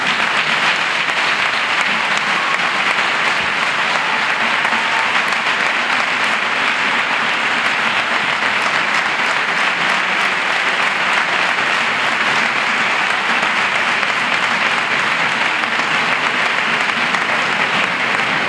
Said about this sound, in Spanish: le brindéis un fuerte aplauso